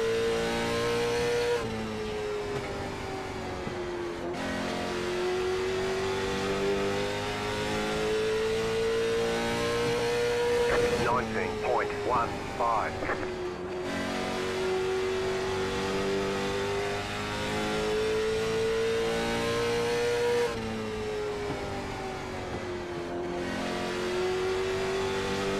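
Late model stock cars race in iRacing at Kern Raceway, a loud, sustained engine roar rising and falling through the laps, with a short burst of sharper revving midway and no voices.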